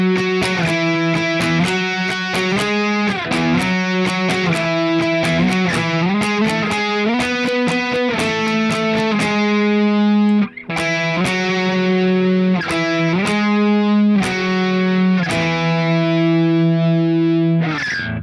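A distorted electric guitar plays a steady run of octave swipes on the 5th string, loud and continuous, with a brief break about ten seconds in before the part resumes.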